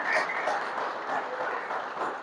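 A church congregation applauding during a Spanish-language sermon, steady dense clapping from many hands that holds evenly throughout and fills the room without any voice on top.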